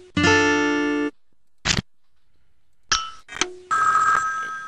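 A toy telephone block in the Elmo's Preschool video game gives a bright electronic ring, followed by several short blips and a final ringing tone, separated by silent gaps.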